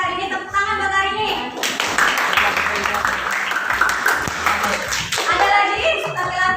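A burst of clapping and applause from a group of teachers at a coaching session rises over talking voices and continues for several seconds.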